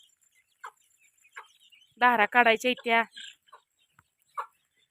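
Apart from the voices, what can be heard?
chicken clucking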